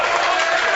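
A studio audience at a sports talk show bursts into loud, dense applause and cheering for a San Antonio Spurs fan, a brief wash of clapping that fills the room.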